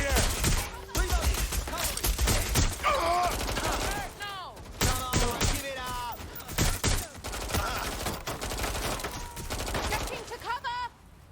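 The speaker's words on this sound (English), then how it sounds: "I'm getting shot at here!" Gunfire in Watch Dogs Legion aimed at the player, sharp rapid shots and bursts cracking repeatedly through the scene, mixed with urgent shouting from a player.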